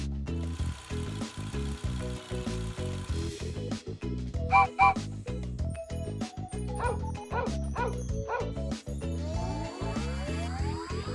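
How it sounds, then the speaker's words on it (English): A cartoon dog barks in quick, repeated yips over bouncy background music, the barks short and clear throughout. "Dog."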